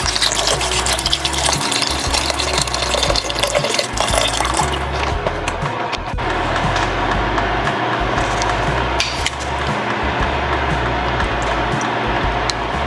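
Chicken broth pours steadily and continuously into a pan, a loud, close gushing that runs throughout without any talking.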